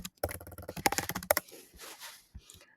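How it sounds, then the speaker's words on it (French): Quick bursts of keystrokes on a computer keyboard as a search is typed, a dense fast clatter for over a second and then a few softer scattered clicks, close and alone. "Donc, on va aller sur Google, on tape Claude Cowork"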